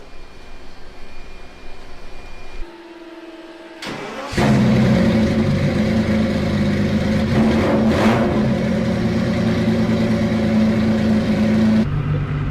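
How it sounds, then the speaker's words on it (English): A Ferrari F50 sports car at Monterey Car Week: a quiet idle, a brief pause, then the engine fires up and holds a loud, raspy, sustained roar with a couple of sharp revs, close by. "And now we're in the Ferrari F50. Thing sounds crazy."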